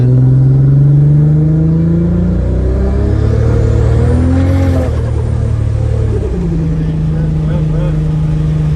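An 800 to 1000 horsepower Toyota Supra with a built TH400 automatic transmission accelerates hard from inside the cabin, the loud engine pitch climbing and dropping sharply through gear changes before settling into a steady drone.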